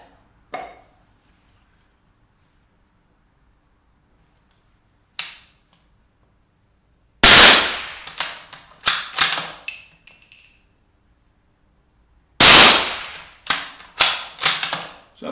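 A Ruger M77/17 All-Weather bolt-action rifle firing 17HMR rounds outdoors: sharp, loud, close cracks separated by long pauses, each followed by metallic bolt clicks and handling noise, with a shorter cluster of shots and mechanism sounds near the end.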